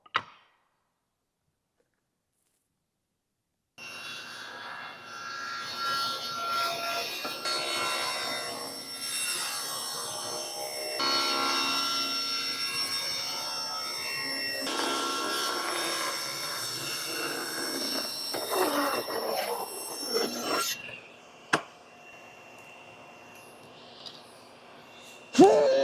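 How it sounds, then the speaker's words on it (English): A saw rips wooden boards down to width in a woodshop, a loud, steady, high whine that starts after a few seconds of silence, runs for about seventeen seconds, then spins down. A few knocks follow. "All I need to do now is just go ahead and rip all of these down to 1 7/8 inches"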